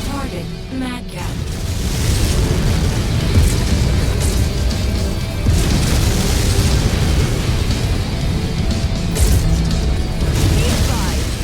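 Explosion of a destroyed mech in the MechWarrior video game gives a loud, sustained rumbling blast and crash that fills the whole stretch, heavy and close with mechanical clatter, with no speech.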